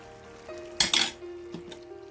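Mango pickle is stirred into a banana chilli pickle, with a spoon clinking and scraping against the pot in a few close, sharp knocks over a quiet background.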